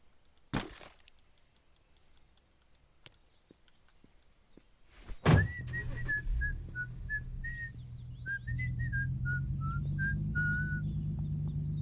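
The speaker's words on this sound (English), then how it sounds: "This fucking guy over here whistling in a great freaking mood." A man in the video game Thief Simulator 2 whistles a melodic tune of short wavering notes over a steady low hum, preceded by a couple of sharp knocks.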